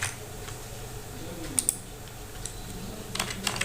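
Computer keyboard keys tapped while coding, a few sparse, fairly quiet clicks spread over a low background hum.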